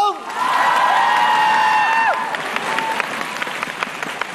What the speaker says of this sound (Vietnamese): một tràng pháo tay thật lớn cho Tuấn Dũng